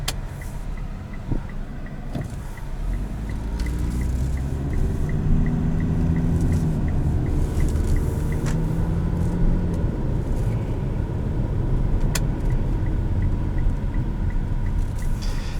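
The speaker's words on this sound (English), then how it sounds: "extra noise from the HVAC system" Steady broadband fan and airflow rush from the HVAC system inside a 2016 Mitsubishi Outlander Sport, blending with low road rumble as the small SUV drives, continuous and fairly loud throughout with no talking.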